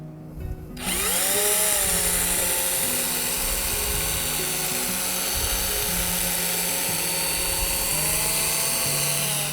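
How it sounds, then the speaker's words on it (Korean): A handheld power drill spins up and runs steadily, mixing a marbling base solution in a container for ceramic marbling painting, its whining motor loud and continuous after a brief quiet start. "이 핸드 드릴로 마블링 베이스 용액은 한번 섞어 줄 겁니다."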